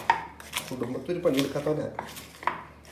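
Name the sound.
chopping onions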